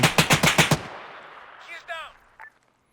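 Gunfire in the video game Arma 3, a close burst of five rapid automatic shots followed by a fading echo and a few faint distant pops, with no talk over it.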